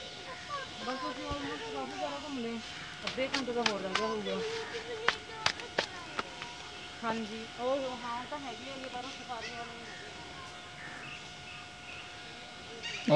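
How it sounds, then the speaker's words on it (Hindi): Birds calling at a zoo, with wavering honk-like cries coming in bursts among scattered sharp clicks, moderately close, while people talk over them. "कितने सुंदर सुंदर पक्षी।"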